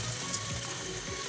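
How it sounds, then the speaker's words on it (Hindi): A vegetable patty sizzles in hot oil, the same oil used for frying zinger pieces, giving a brief, steady hiss of bubbling at moderate loudness with no talk. "जिसमें हमने जिंगर फ्राई किया है उसी के अंदर हमने अपनी अब ये वाली जो पैटी है इसको भी हमने फ्राई कर लेना है"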